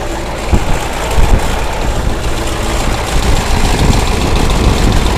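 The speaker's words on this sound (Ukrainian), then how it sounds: "Як трактор валить?" A heavy KhTZ tractor engine idles steadily nearby, a loud continuous low rumble with a rough, chugging texture and no talking.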